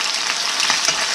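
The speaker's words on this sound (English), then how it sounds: "I'm starting to sear this up." Chicken sears loudly in a hot pan after being flipped, a bright, continuous hiss of sizzling oil close up with small crackling pops, no voices.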